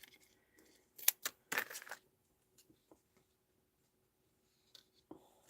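A few crisp snips and short scraping cuts through card stock, sparse and close, separated by quiet pauses in a card-making session.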